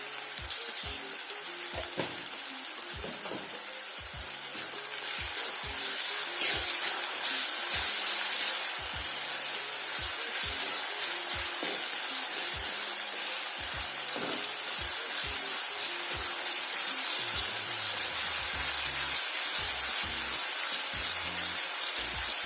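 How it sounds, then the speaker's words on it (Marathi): Chopped onion sizzles steadily in hot oil with salt in a pan for a potato and brinjal curry, a loud continuous crackle with faint scrapes of a spoon now and then. "त्याच्यामध्ये मी मीठ टाकते म्हणजे कांदा आपला पटकन शिजायला मदत होते"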